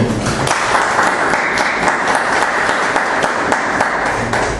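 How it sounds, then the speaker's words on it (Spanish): A church congregation gives a loud welcoming applause during a Christian service, a full, steady roar of many hands clapping that holds evenly throughout with no break. "Démosle ese fuerte aplauso de bienvenida"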